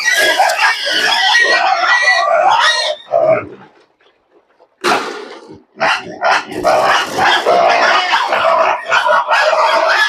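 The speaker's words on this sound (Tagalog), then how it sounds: "dahil umiingay na rin po ang aking mga makukulit na mga biik" A pen of noisy piglets at the starter stage squealing, grunting and oinking loudly before feeding, a dense chaotic chorus close by with a short lull midway before the racket resumes.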